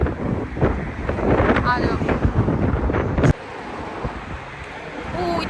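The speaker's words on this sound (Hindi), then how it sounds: "इतना विंडी है आज और बहुत ज़्यादा हवा चल रही है" Strong wind blowing outdoors roars and buffets against the microphone in a loud, constant rush that suddenly eases near the end, with a voice speaking briefly under it.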